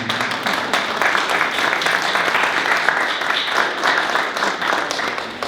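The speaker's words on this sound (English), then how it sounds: "So give yourselves a round of applause." Applause from the audience at a local candidate forum, a continuous, even roar of many hands clapping in a hall, loud and steady for the whole stretch with no speech over it.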